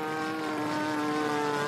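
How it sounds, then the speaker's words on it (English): A drone hovers above the ocean at a marina, giving off a steady, close, high-pitched buzzing whine with layered tonal harmonics and no talking. "today we're gonna try to fly the drone"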